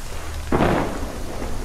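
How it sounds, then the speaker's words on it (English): Thunder rumbles once over steady rainfall in the video game Shadow of Mordor, a single rolling crack rising out of constant rain hiss, no voices. "Oh, great. More rain."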